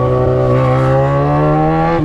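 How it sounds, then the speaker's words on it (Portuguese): A Yamaha XJ6 motorcycle engine roars loud and close, a steady droning pitch that rises slightly under constant throttle, with no voices. "Mano do céu, a motoca tá berrando demais."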